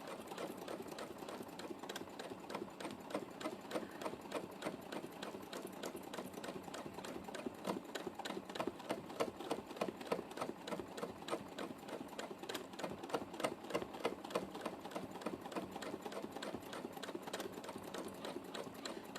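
A sewing machine runs steadily through free motion quilting, its needle hammering out a fast, even stitching rhythm at a quiet, close level with no talk.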